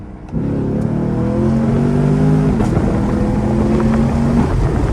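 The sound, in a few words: Camaro SS accelerating with gas pedal punched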